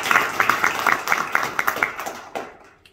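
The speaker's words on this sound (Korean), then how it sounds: "다시 한번 박수 한번" A concert audience claps for amateur choir soloists, a soprano and a baritone, the applause rising in distinct rhythmic bursts before thinning and fading out near the end.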